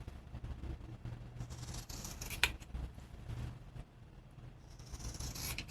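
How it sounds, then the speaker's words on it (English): Scissors snip through the fabric corners of a sewn duster jacket, a few quiet close cuts and rustles of cloth over a low background hum, with one sharper snip near the middle. "I cut the corners."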